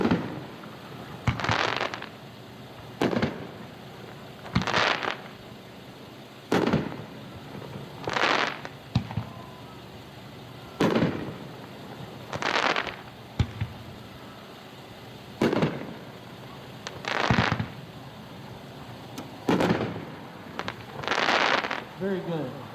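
Consumer fireworks cake with seven shots from 3-inch tubes at a dealer demo show: about seven sharp launch thumps, each followed by a crackling burst, evenly spaced every few seconds and heard from a distance.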